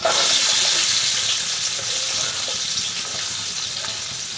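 Four large onions fry in hot oil for chicken biryani, giving a loud, steady, close sizzle that holds evenly throughout with no voices.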